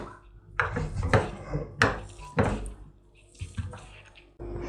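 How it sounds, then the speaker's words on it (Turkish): Boiled potatoes being mashed with butter in a pot, heard as a string of irregular soft thumps and squelches from the masher with brief pauses between strokes, close and fairly quiet. "Patatesleri iyice ezdikten sonra bir yemek kaşığı tereyağını da içine ilave edip tekrardan ezme işlemine devam edelim."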